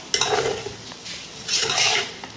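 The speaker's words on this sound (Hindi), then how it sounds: "मिक्स करेंगे इन अंडों को" Eggs stirred into chicken and vegetable rice in a pot, a spoon scraping and clinking against the metal in two busy bursts of scraping, near and moderately loud, with no talk.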